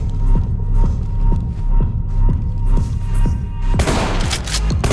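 A loud burst like a grenade or flashbang goes off about four seconds in during a Ready or Not tactical shooter match, following steady rhythmic thumps and ending in a broad crackling wash of noise.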